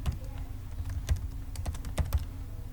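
Keys clatter on a computer keyboard while someone types VBA code, the taps coming in irregular bursts of sharp clicks at close range, with no voices.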